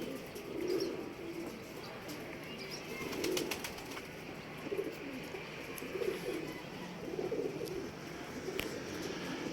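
Pigeons coo in soft, low repeated phrases at a rooftop loft in Pakistan, several gentle calls spaced a second or two apart under a steady background hiss and faint distant voices.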